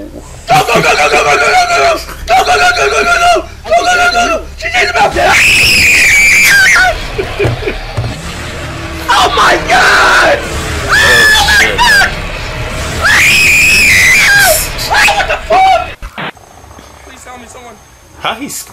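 Loud, shrill screaming comes in repeated bursts, rising and wavering, with excited voices and background commotion between cries.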